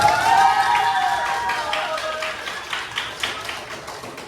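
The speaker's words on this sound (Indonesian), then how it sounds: "tepuk tangan untuk kalian." A classroom of students claps together, a dense burst of hand claps that gradually thins and fades, with a voice talking over the start.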